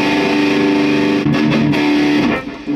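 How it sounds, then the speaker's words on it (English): A guitar plays through a distortion pedal built with a higher-gain op amp, giving a thick, heavily clipped sustained tone with a couple of chord changes, loud and close, trailing off at the end. "way more distortion, way more gain, because this op amp, it probably has a higher open loop gain"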